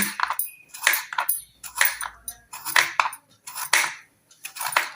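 Knife slicing peeled potatoes for aloo bajji, six sharp close cuts with a ringing blade tap against the board at a slow even pace, quiet between strokes.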